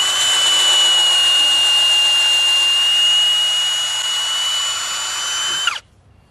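A power drill bores steadily into upcycled wooden chair legs for second-hand chairs, its loud, continuous whine holding for nearly six seconds before cutting off abruptly.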